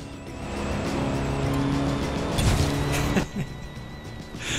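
A car tearing off-road at speed in Forza Horizon 4, its engine roaring steadily with shifting pitch, rough thumps and a sharp impact near the end.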